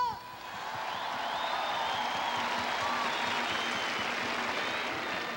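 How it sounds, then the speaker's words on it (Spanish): A large crowd applauds at the Teletón 2000 charity telethon in Chile, a dense, continuous roar of clapping with scattered cheers, steady and sustained throughout. "Y un aplauso para Chile, para que se animen todos."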